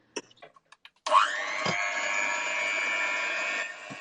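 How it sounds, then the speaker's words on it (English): An electric blender whirs steadily for about three seconds as it mixes soufflé pancake batter, starting abruptly after a few light clicks and knocks, then cutting off near the end. "mixing his with the blender"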